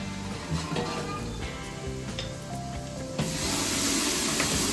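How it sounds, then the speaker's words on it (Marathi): Cooked peas tipped into a large pot of sizzling usal misal being made for sixty to seventy people, a steady hiss and crackle throughout that swells louder in the last second and a half. "वाटाणे टाकलेले आहेत आता"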